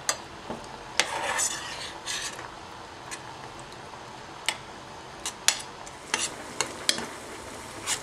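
Fried black bean paste for jjajangmyeon being stirred and mashed in a pan, with soft scraping and utensil clicks over a faint sizzle, sharp taps scattered irregularly throughout.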